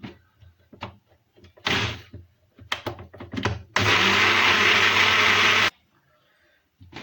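An electric blender grinds sugar with a pinch of salt in one loud, steady whir of about two seconds, preceded by several knocks and clatters as the jar is handled and set in place.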